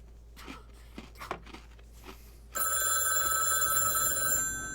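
A telephone rings loudly and continuously in the FMV video game The Dark Side of the Moon, a steady electronic trill that starts abruptly after some faint scattered noises and holds to the end.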